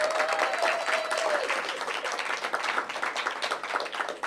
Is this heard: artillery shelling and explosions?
no